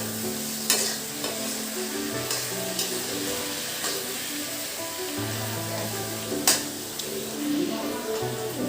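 Food frying in a pan in a home kitchen, a continuous close sizzle with repeated scraping and clinks of a spatula stirring, while a low tonal hum runs underneath.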